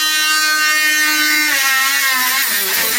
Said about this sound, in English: Let me just fix the Dremel tool